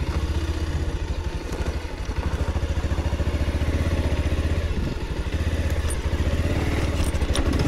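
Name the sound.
motorcycle riding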